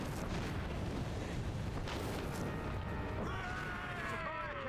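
Ship cannon fire in Assassin's Creed Rogue booms in a heavy, rumbling barrage over naval battle noise, loud and continuous, with a whistling shell streak near the end.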